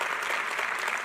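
A church congregation applauds, dense steady clapping from many hands filling the room without pause.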